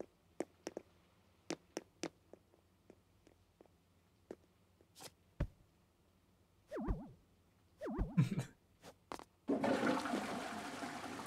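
Animal Crossing bathroom fixture turned on, a series of sharp game clicks and boings followed by a sudden steady rush of running water at the end.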